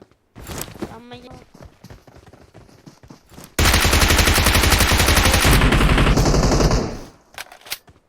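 Automatic rifle fire rattles in a fast, loud, sustained burst for about three seconds in the mobile battle royale game PUBG Mobile, preceded by scattered footsteps and clicks, with voices talking around it.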